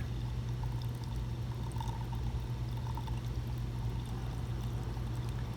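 Water pours steadily into an attic air conditioner drain pan in a continuous splashing stream, a constant watery rush with no breaks, fairly close by.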